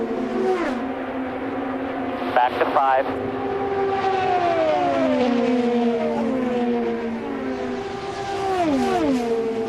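IndyCar race cars scream past one after another during the 2015 Pocono 500, each engine note sweeping sharply downward as it passes, while a commentator talks over the roar.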